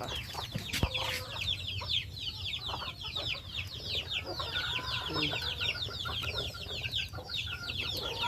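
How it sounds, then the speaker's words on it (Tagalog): Many chickens cluck, chatter and squawk together in a busy, continuous chorus, with steady low background noise and a sharp knock near the start. "Mga manok."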